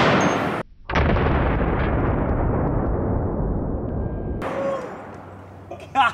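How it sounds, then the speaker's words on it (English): A .50 caliber rifle fires a black tip armor-piercing round into heavy bags: one sharp, heavy blast near the start, then a long booming decay rolling out over several seconds. "now I want to try one more round, and that's a black tip armor piercing round"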